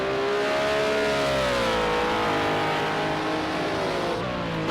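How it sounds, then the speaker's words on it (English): Race cars in Project Cars 2 howl past at over 200 mph during a Group C race at Algarve, a continuous high engine whine with shifting pitch, loud and close throughout. "with Douglas' car, well over 200 mile an hour for both of them"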